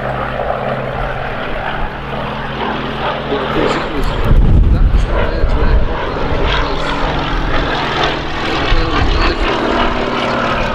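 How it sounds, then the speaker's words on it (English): A Fairey Swordfish biplane flies past at an airshow, its propeller engine making a steady broad drone that swells loudest midway through, with crowd chatter in the background. "Fairey Swordfish."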